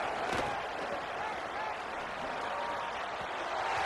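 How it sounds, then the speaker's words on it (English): Home crowd at a football game cheering in a steady, broad roar that fills the whole stretch, loud and continuous with a burst of clapping near the start. "how nice is it to have the home crowd going absolutely bananas"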